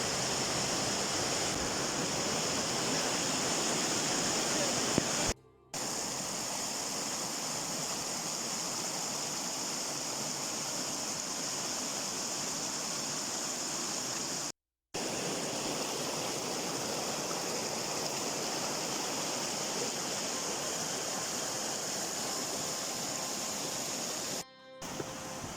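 Hebbe waterfalls in Chikkamagaluru roar with a steady, dense rush of falling and flowing water, loud and continuous, broken only by a few brief cuts to silence, with no voices.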